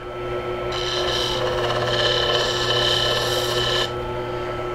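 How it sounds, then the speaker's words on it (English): A steady, close rasping rub as a tool edge is honed on a disc coated with honing compound, continuous for a few seconds over a low hum. "Now apply honing compound to the edge of the disc and hone away."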